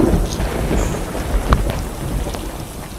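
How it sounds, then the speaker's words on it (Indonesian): Steady rain falls outdoors with rumbling thunder, including a louder thunder crack about midway, continuous throughout with no voices. "Bu, kayaknya di luar mau gerimis, Bu. Turun hujan."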